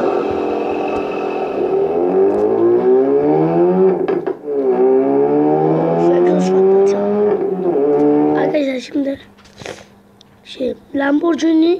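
A Ford Focus RS engine starts and revs up and down in several rising, falling waves, loud and close. The engine then drops away and a voice speaks in short bursts.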